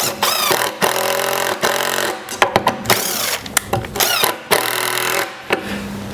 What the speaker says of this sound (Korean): 나사를 한번 박아 보면서 테스트를 해볼 거고